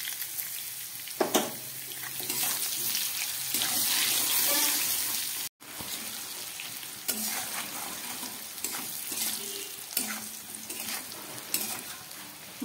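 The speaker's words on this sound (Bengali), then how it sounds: "একটু ভালো করে ভেজে নিই আলু বেগুনটা।" Potato and eggplant pieces sizzle and crackle in hot oil in a pan, a steady close frying hiss broken by occasional stirring scrapes, with no talk over it.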